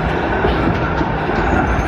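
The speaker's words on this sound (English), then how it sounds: "There's a tram coming." A steady, loud rumble of a tram arriving close by in Milan, with continuous low mechanical noise and no voices.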